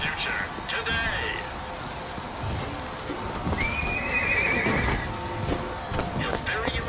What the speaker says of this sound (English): Equus Mechanical, the automatic stallion, the horse of the future, today.